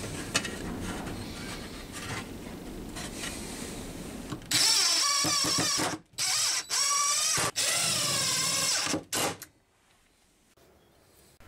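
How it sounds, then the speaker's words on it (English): Power drill driving screws into wooden corner pieces of a French cleat tool storage rack, quiet handling noise first, then several loud whirring bursts separated by brief pauses, ending in near silence. "I could simply place them into position and then drill and screw them in"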